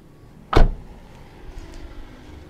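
A door of a 2013 Kia All New Picanto city car shuts once with a solid, sharp thud, followed by a quiet interior with faint soft clicks.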